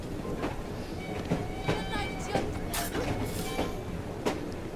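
Rolling train in The Last Maharaja, ridden on its roof: a steady clattering rumble with regular wheel clacks and mechanical squeals, continuous throughout with no voices.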